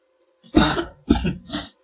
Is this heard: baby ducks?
no